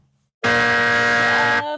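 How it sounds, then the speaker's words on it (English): A game show buzzer sounds once, loud and close, as a flat, harsh electronic drone that starts abruptly after a moment of quiet, holds for just over a second and then cuts off. "Buzzer"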